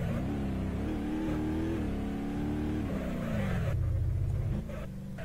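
A pickup truck in BeamNG.drive drones with a steady engine note that rises in pitch as it revs, then swells into a louder rumbling strain before dropping back near the end.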